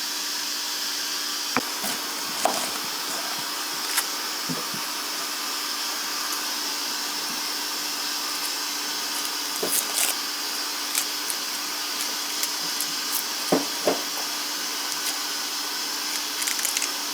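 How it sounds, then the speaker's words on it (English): A pressure pot cooking channa gives off a continuous loud, steady hiss with a faint hum underneath, broken by occasional small clicks and knocks in a kitchen. "you can hear our pressure pot starting to go"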